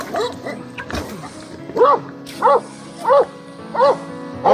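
Sled dogs, a pair of lead-dog brothers, yipping and barking in a regular rhythm, five evenly spaced loud yelps following some quicker yips, close by, with no talk.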